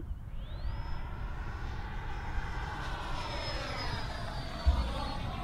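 A Freewing F-22 90mm EDF model jet flies at full speed, its ducted fan giving a loud, steady high-pitched whine that rises quickly at the start and then holds over a constant rushing roar, with no talk.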